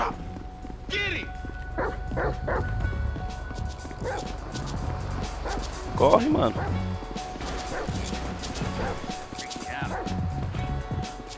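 A dog barks and yips in the game GTA V, several short sharp barks scattered among gunfire-like thumps and game noise, with people talking over it throughout.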